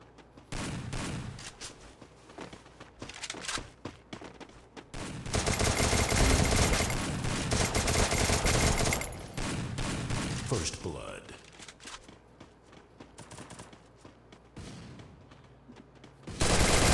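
Bursts of automatic gunfire from a shooting video game rattle in dense volleys, loud and sustained around the middle, with shorter bursts before and after while a player talks over the action.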